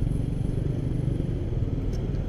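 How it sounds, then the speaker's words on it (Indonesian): A 2014 Honda Supra X 125 R motorcycle engine drones steadily and close while ridden, a continuous low rumble with faint clatter and no talking. "motor yang aku tunggangin atau aku naikin ini tuh"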